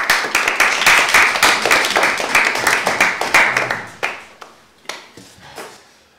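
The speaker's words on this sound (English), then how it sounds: "Clapping is in order." Hands clapping in a crowd at a Model United Nations conference session after a clause passes, a loud burst of applause that thins to a few scattered claps before fading.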